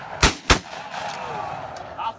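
Two sharp shotgun blasts from an outdoor shooting session fire about a quarter second apart, each loud and close, followed by a fading echo and faint background noise.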